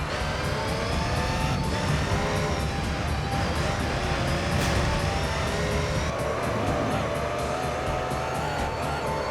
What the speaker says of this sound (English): this car has a very distinct engine sound in this game, to be fair